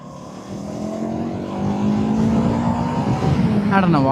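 A Yamaha R3 motorcycle engine screams at high revs while riding, the pitch climbing steadily in a loud, continuous whine with road and wind noise, close to the rider.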